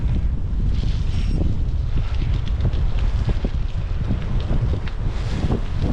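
Steady wind buffets the microphone while riding a gravel bike on a cycle path near Glasgow, a loud continuous low roar with gusty bumps and no talking.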